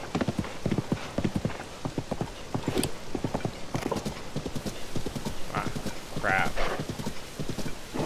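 A horse gallops in Zelda: Tears of the Kingdom, with rhythmic clip-clop hoofbeats running continuously and close throughout, and a whinny partway through.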